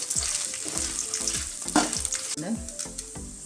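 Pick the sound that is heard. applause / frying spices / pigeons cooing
frying spices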